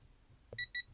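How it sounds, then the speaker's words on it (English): An Aldi stud finder scanner gives two short, clear electronic beeps in quick succession, tested on a lined wall panel with nothing behind it, with quiet background otherwise. "2 beeps."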